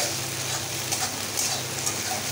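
Ginger garlic paste frying in a pan for egg biryani, a dense, steady sizzle close up with faint stirring scrapes and small ticks over a constant hiss.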